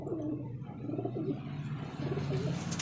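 Pigeons cooing in a low, rolling murmur that continues steadily and sits moderately close, with faint background noise and no voices.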